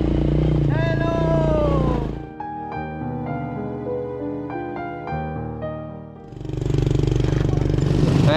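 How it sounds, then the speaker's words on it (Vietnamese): A motorcycle engine runs steadily and close by for several seconds, with voices heard before and after it on a rural road trip to a poor mountain commune. "Em đi xe máy thôi."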